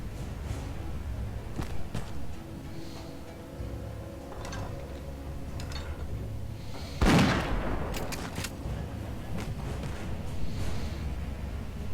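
Gunfire in the tactical video game Warmachine Tactics, with a single sharp, loud shot burst standing out against a quieter background of game ambience and faint scattered impacts.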